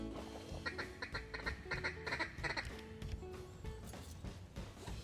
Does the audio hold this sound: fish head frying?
no